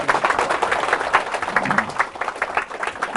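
Weak, patchy applause from a lecture audience, a continuous but thin patter of clapping hands over three seconds with faint murmuring voices underneath.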